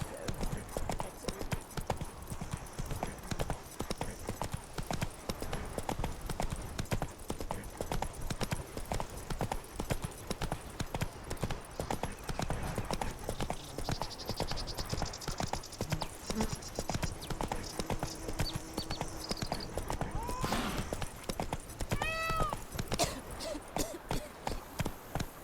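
Horse hooves clip-clopping at a steady riding pace in The Witcher 3 around Beauclair, continuous and close, with a brief whinny and other game sounds mixed in near the end.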